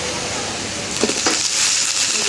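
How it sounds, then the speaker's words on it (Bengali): Thinly sliced potatoes tip into onions frying with bay leaf, dried red chilli and cumin in a village kitchen pan, a brief burst of louder hissing rising out of a steady, close sizzle. "পেঁয়াজ ভাজায় আলুগুলি দিয়ে দেব"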